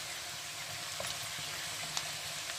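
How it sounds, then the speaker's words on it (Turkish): Swiss chard sautéing in a hot pan gives a steady, close sizzle with a few faint pops and stirring clicks, and no one speaks. "içine pazılarımızı yavaş yavaş ekleyelim. Hem bir yandan kavuracağız"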